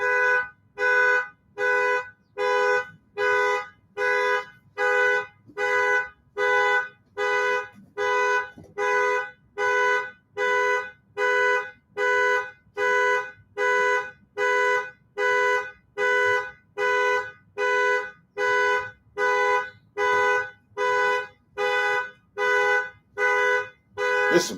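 An electronic alarm beeps over and over in the background, a long unbroken run of evenly spaced loud tonal pulses, about one per second, with no talk over it.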